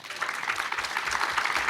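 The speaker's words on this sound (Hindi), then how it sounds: "तालियां बजाइए भाई साहब" Steady audience applause at a panel event with army officers, a dense, even wash of clapping from a sizeable crowd held for a couple of seconds.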